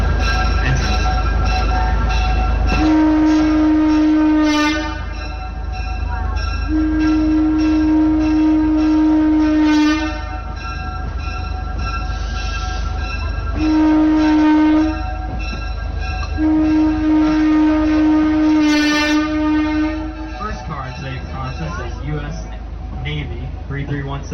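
Historic Pine Creek Railroad train ride at Allaire State Park: a steady rumble of locomotive and cars rolling along, with a loud sustained horn blowing twice in long blasts, and a voice talking over the ride.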